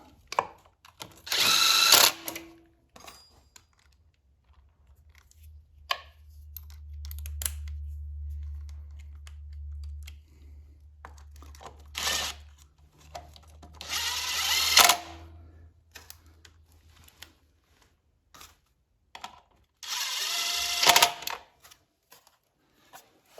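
A power tool drives three bolts back into the front sprocket cover of a Yamaha XT250, heard as several short, loud, close bursts of whirring separated by quiet pauses and a low hum.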